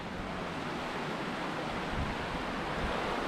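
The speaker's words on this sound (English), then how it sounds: "The force of a river like this, folks, is just like mind-blowing when it gets going." A Scottish river rushes past an old railway bridge, heard as a dense, steady roar of broadband water noise, fairly close and unbroken, with no voices.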